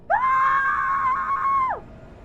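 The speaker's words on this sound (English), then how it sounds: "Suddenly, the sounds of screams filled the air." A single drawn-out, high scream in an animated horror story, loud and sustained for under two seconds before sliding down and cutting off, leaving near silence.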